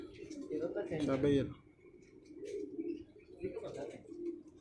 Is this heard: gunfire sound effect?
no